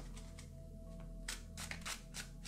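Tarot cards handled and shuffled during a reading: soft, quiet papery flicks and riffles in short bursts, close up, with no talking.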